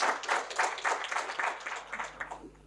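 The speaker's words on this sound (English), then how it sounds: "Let's put a loud round of applause together for the Additional Secretary at MHI." An audience applauds a keynote speaker, an Additional Secretary at MHI, at an e-FAST India Summit opening plenary, with steady dense clapping that holds for a few seconds and then thins out near the end.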